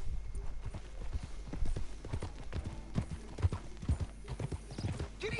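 Horse hooves clip-clop at a steady walking rhythm in the open-world western game Red Dead Redemption 2, loud and close, with the occasional snort or whinny over a low ambient bed.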